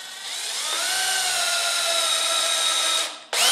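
A power drill bores a whisker hole into a wooden cat car box, its steady whining motor running loud and close for about three seconds before it winds down briefly and starts again.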